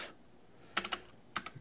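Fingers type on a computer keyboard in two quick clusters of soft, close clicks against a quiet background.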